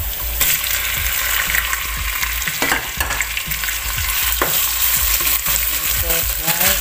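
Beef frying in a pot for a Pakistani-style beef stew seasoned with Shan masala, with a steady loud sizzle throughout and repeated scraping and stirring knocks from a utensil against the pot.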